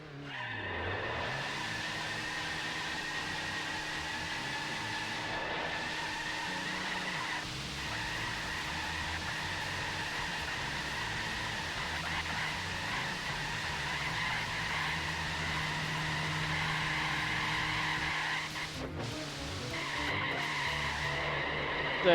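A Citroen 2CV engine in Gran Turismo 4 drones steadily with long tire screeches, a sustained skid that holds near one pitch, loud and close with little else around.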